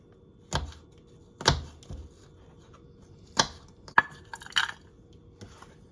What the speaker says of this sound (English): I have to chop some cranberries